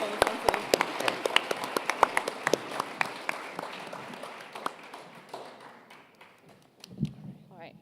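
Applause at a school graduation ceremony: sharp individual claps ring out at first, thin out and fade, then a voice speaks briefly near the end.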